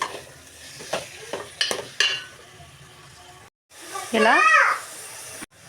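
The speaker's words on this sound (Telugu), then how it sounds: "ఇప్పుడు ఇందులో కడిగి శుభ్రం చేసుకున్న 1/2 కిలో మటన్ యాడ్ చేసుకోవాలి. బాగా కలుపుకోవాలి." Half a kilo of washed mutton stirred into fried ginger garlic paste in a pan, with scraping and clattering stirs early on, then a loud, close sizzle swelling as the meat hits the hot oil.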